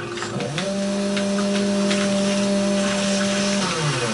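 A chainsaw in Doom 3 revs up, holds a loud steady buzzing whine for about three seconds, then winds down, amid gritty industrial game ambience with no speech.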